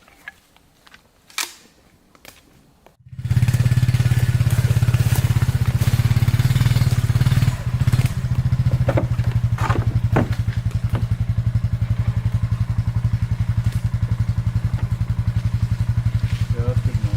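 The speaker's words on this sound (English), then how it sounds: "I guess we're going to take the four-wheeler down in here and try and get some better clips" Four-wheeler ATV engine starting up and running steadily at close range in the Maine woods during a black bear hunt, a loud low rumble that follows a few knocks and clicks.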